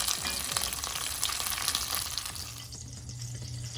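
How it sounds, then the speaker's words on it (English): Cabbage wedges sear in a hot pan with a loud, dense frying sizzle that thins out near the end, leaving a low hum beneath. "You'll want to sear these cabbage wedges on both sides."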